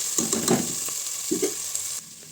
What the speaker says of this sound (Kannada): ಒಂದೆರಡು ಸ್ಪೂನ್ ಬೆಳ್ಳುಳ್ಳಿ ಪೇಸ್ಟ್ ಮತ್ತು ಒಂದೂವರೆ ಸ್ಪೂನ್ ಶುಂಠಿ ಪೇಸ್ಟ್ ಹಾಕ್ಕೊಂಡು ಹಸಿ ವಾಸನೆ ಹೋಗೋಕ್ಕಂತ ಫ್ರೈ ಮಾಡ್ಕೊತಾ ಇದ್ದೀನಿ